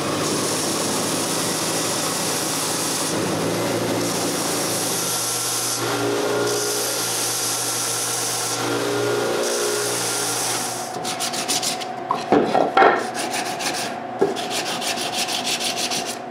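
Sanding the exterior of a wooden thermostat box produces a steady, loud abrasive rubbing drone close up that runs unbroken, then gives way to a few scattered knocks and handling sounds near the end.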